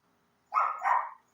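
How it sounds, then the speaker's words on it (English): A small dog gives a single short double-pulsed bark, fairly close and clear against near silence. "hear a little dog,"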